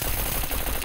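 Rapid, continuous automatic machine gun fire in the survival video game Scum, a dense unbroken burst of close, loud shots lasting under a second.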